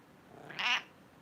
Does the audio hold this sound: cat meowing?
yes